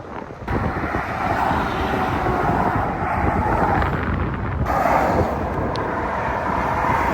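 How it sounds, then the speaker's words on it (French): Heavy lorries roll by on a Normandy motorway, a broad, loud rushing roar that surges twice as each one passes close, buffeted by wind noise with no voices. "Oh, les camions ils sont saoulants."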